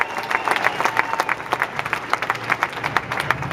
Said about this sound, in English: give yourselves a hand for being here